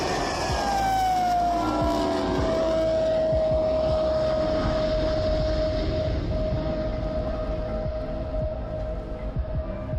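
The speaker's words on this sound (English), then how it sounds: "The F-104 is also famous for the howling sound its J79 engine" An F-104 Starfighter's J79 jet engine howls with a sustained whining tone that slides downward and then holds steady over a dense, loud roar.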